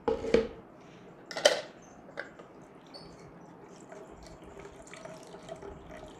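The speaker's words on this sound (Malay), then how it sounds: "kita tapis ya hampas yang telah kita kisar dengan 200 ml air" Water pours and splashes while ground soybean pulp is strained with about 200 ml of water for homemade soy milk, two short bursts near the start followed by faint trickling and quiet handling sounds.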